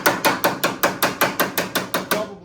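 A planishing hammer pounds an aluminum door panel on a 1959 Ferrari 250 TR/LM replica built from a 1957 Devin 295 SS, with about ten loud, evenly spaced metallic blows in a fast, steady rhythm, close up.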